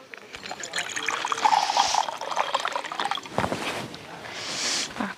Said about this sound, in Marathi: जरा पाणी पितो.